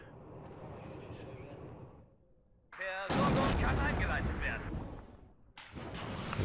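Anti-tank guns in the Cold War strategy game WARNO fire in heavy, booming reports: a rumbling stretch, a brief lull, then a sharp loud blast with a sustained roar, followed by another hit near the end.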